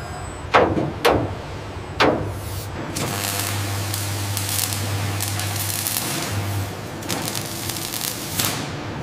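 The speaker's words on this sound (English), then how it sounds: "The completed ladder frame enters the automated PVC undercoating spray booth." An automated PVC undercoating spray booth sprays a truck ladder frame in a Toyota Hilux Revo factory, with a steady pressurised hiss following a few sharp mechanical clanks.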